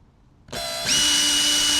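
A power drill whirs up suddenly, then its pitch climbs and steadies into a loud, continuous high whine as it drives a screw into a Sea-Doo back deck.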